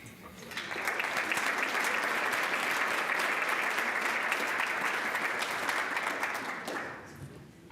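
Applause for students at a rising sophomore ceremony: a full, dense round of clapping from a large audience swells in quickly, holds steady and loud for several seconds, then fades away.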